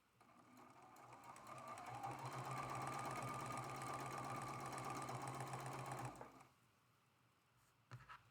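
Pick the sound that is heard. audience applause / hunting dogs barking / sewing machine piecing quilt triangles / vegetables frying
sewing machine piecing quilt triangles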